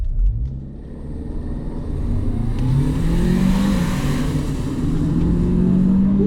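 A 2024 Chery Tiggo 8 SUV accelerates hard from 0 to 100 km/h, its engine note rising in pitch through a gear change amid steady road rumble, heard loud and close from inside the cabin.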